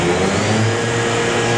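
A Doosan horizontal machining center's spindle winds up in speed, a loud, steady mechanical whine with a rising tonal hum and no voices.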